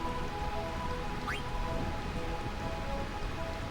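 Heavy rain falls on Burmecia in Final Fantasy IX as an even, continuous hiss of a downpour, with a brief rising tone partway through and no speech.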